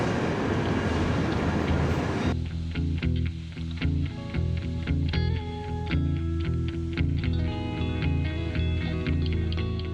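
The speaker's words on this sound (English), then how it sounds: "Oh my god, that's such a nice train." Train at Amsterdam Centraal station, a steady low rumble with clanking and tonal hums throughout, loud and close, with a sharp shift in texture a couple of seconds in.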